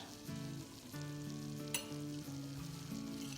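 Flour toasting in a pan as the base for béchamel sauce for baked pasta gives a soft, continuous sizzle and stir, faint beneath background music.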